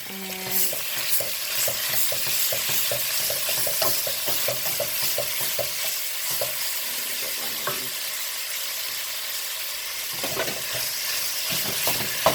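One pound of ground beef frying with vegetables in a pan for lasagna, a steady close sizzle broken by repeated scraping stirs, with no talking.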